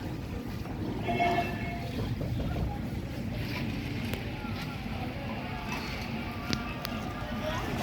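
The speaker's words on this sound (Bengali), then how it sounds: "এখন একটা লঞ্চ ছেড়ে যাবে" Passenger launch departing a river ghat on the Rupsa River at Khulna, a steady low engine rumble and water wash filling the scene with wind, a few distant clanks and faint background voices mixed in.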